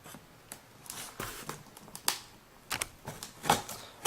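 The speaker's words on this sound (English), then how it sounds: "there's still a bit of tape to be sawed through" Knife sawing through leftover packing tape on the shipping box of a white iPhone 4: a run of short, crisp scraping and snapping strokes in an irregular rhythm, close and fairly loud, with no talk.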